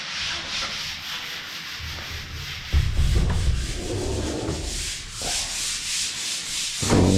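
Steady scratchy rubbing of sandpaper on putty, continuous strokes with a few louder passes, close by.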